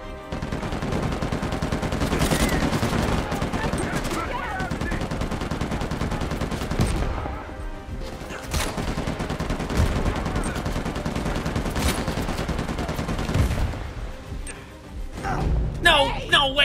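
Repeated bursts of gunfire ring out in the Uncharted 4 video game, loud and near, coming in rapid volleys and separate shots over a busy game soundscape, with a player talking excitedly between and over the shots.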